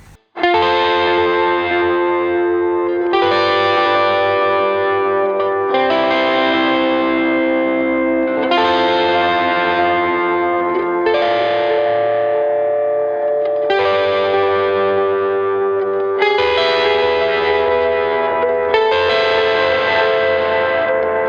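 Electric guitar played through both pickups at once with jangly, distorted, chorus-like effects, strumming loud sustained chords that change in a steady, repeating pattern with no break.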